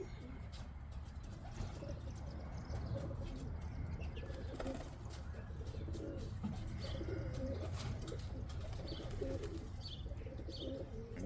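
Several pet pigeon cocks coo softly in a loft on a sunny day, low murmuring calls that rise and fall, with a few chirps and wing flaps, under quiet talk.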